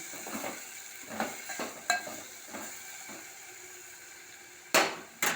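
Tomato and raw mango pieces go into a frying curry in a home kitchen, with a quiet sizzle under intermittent scraping and clinking strokes of a spoon stirring the pan, including a couple of sharper knocks near the end.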